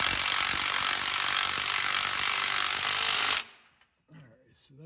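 Loud, continuous hammering rattle of an impact gun tightening a crankshaft sensor bolt on a 2000 Camaro engine, running steadily for about three seconds before cutting off abruptly, followed by brief quiet sounds.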